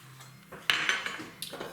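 A knife cutting straight down through a sheet of puff pastry on a board, a short sharp scrape followed by a brief second stroke, close and clear with no talk.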